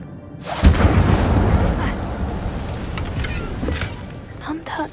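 A fire spell, Incendio, cast in the video game Hogwarts Legacy bursts into a loud, sustained roaring rumble with a heavy boom near the start, continuing for several seconds with crackling flares and ending in a few sharp hits.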